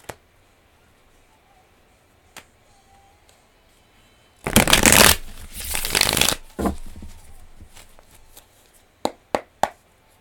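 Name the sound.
shuffling a deck of tarot cards for a reading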